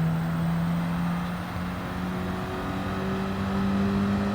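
A race car in a video game laps the Suzuka circuit, its engine holding a steady droning whine with slight pitch shifts as it accelerates, loud and continuous with no talk.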